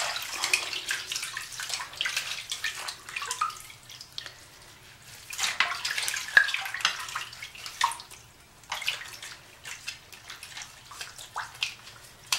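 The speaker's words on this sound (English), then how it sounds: "Let me rinse one more time." Running water splashes and patters over a Denman hair brush as it is rinsed at a tap, with uneven gushes and drips rising and falling, steady and close.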